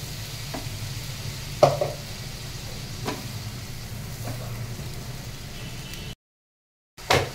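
Spice paste frying in oil for an egg korma, a steady low sizzle broken by a few sharp spatula knocks, then a short gap of silence and another clatter.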